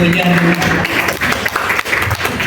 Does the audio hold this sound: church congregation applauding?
yes